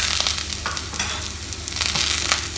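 Shallot chicken with pepper, coriander powder and chicken masala sautéing in a pan, a continuous close sizzle with occasional stirring scrapes, no one speaking.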